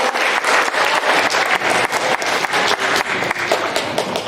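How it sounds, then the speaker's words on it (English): Audience applause at a school assembly, a dense stretch of many hands clapping steadily and fairly close, with no voices over it. "Give a round of applause."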